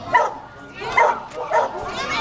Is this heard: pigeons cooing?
no